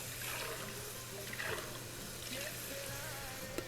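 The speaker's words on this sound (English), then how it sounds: "Pour the remaining chicken stock in here." Chicken stock poured from a can into a cooking pot in a home kitchen, a steady splashing liquid stream that runs close and continuous throughout, with no talking.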